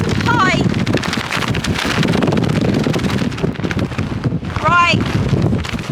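Strong wind roars and buffets the microphone continuously on an exposed Scottish Highlands trail, loud and close throughout, with a person's voice breaking through briefly over the gusts.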